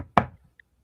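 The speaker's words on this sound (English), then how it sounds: "All of a sudden you hear a knock at Aaron's door." A single sharp knock on a door, short and close, followed by quiet.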